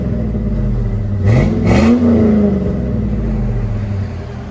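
A Chevy Suburban V8 fitted with a Flowmaster Delta 40 muffler, heard from outside: deep idle rumble swelling into a single short rev that climbs and settles back, loud and close, with no voices.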